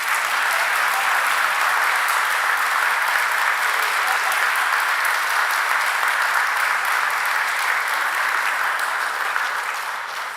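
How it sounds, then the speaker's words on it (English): Sustained applause fills a board of aldermen meeting as the room honors a girls' sports team, steady and loud clapping from a large group throughout without pause. "a big another round of applause for our girls."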